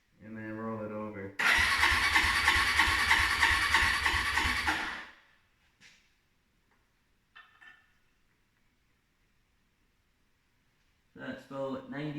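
A Suzuki Marauder motorcycle engine cranks over with the throttle wide open for a compression test, a loud rapid chugging for about four seconds close up, with someone speaking before and after.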